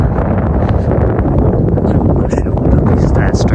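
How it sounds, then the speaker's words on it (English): Gusty seaside wind on a high point above the sea buffets the microphone in a heavy, low rumble that runs continuously and loudly, with faint background sounds breaking through now and then. "Now I've come up here, it's windy."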